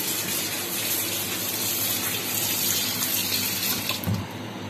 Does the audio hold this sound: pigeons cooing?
no